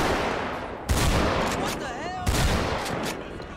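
A shotgun fires in GTA 5: two heavy, loud blasts about a second and a half apart, with a voice talking briefly between them.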